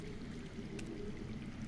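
Underground water flows steadily in a fantasy video game set in a Game of Thrones world, a soft continuous pouring rush heard faintly and alone.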